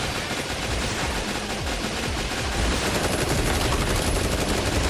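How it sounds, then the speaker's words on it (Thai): Dense, continuous gunfire from the arcade shooter Metal Slug Awakening, rapid machine-gun bursts pouring out loud and steady with no pause, layered over explosions and game noise. "ยิงโดนผูเฉยเลยเพื่อนได้เวลาสาดกระสุน"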